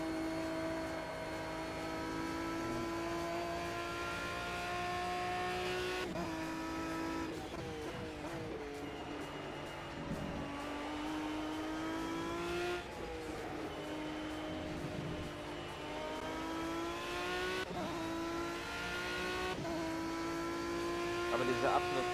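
An LMP1 prototype race car in Project CARS, racing at the Nürburgring GP circuit, gives a sustained high engine whine that climbs through repeated gear shifts, with tire noise and talk over it throughout.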